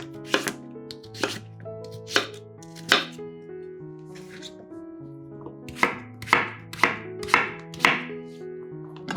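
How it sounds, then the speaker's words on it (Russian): A knife chops peeled pumpkin into small pieces on a board, about a dozen sharp, ringing strikes: a few spaced chops, a pause, then a quicker cluster, close and clear with no talking. "Подготовленную тыкву нарезаем небольшими кусочками."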